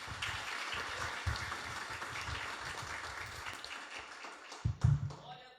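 A church congregation claps together for a visiting preacher, a continuous wash of applause at moderate distance that thins and breaks up near the end.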